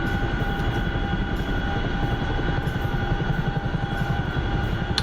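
Heavy Chinook twin-rotor helicopter in flight inside a video game, a steady dense rotor drone with low thumping texture and a faint high whine, continuous and unvarying with no talking.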